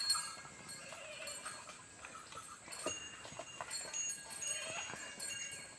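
Cattle, with goats following behind, walk down out of the forest onto a road, their hooves clip-clopping in a steady, uneven patter at moderate distance against outdoor background noise.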